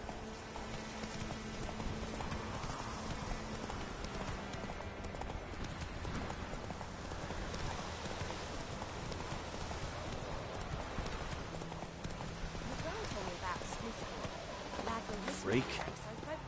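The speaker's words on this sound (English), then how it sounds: "Run, Roach." A horse gallops in a PS4 video game, its hooves clip-clopping steadily at a moderate distance under a low, continuous ambient bed, with a voice heard talking over it.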